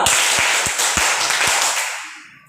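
A group claps hands during a classroom session, a dense burst of applause with a few sharp, evenly spaced claps standing out, fading away over about two seconds.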